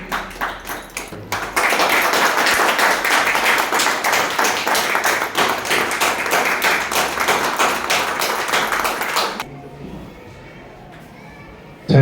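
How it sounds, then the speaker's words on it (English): An audience at an in-house CBSE teacher training session claps after the session ends, loud dense clapping that starts abruptly, rolls steadily for several seconds, then cuts off into quiet room tone with a brief sound at the very end. "big a huge round of applause for the Pratima madam for the wonderful session."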